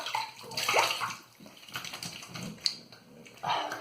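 Water splashes and runs while rinsing the face after a wet shave with a boar brush and lather, a close, uneven sequence of splashing bursts with short pauses between handfuls.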